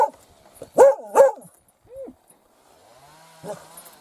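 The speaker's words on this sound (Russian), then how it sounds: "Вот, соседи там дрова пилят." A saw cutting firewood at a neighbour's place in a snowy village whines faintly in the distance as a steady, thin drone, while a nearby dog barks loudly several times over it.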